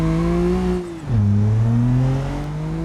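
A car engine drones steadily in the BeamNG driving game, its tone dipping briefly as revs drop then climbing slowly again, loud and close with no talk over it.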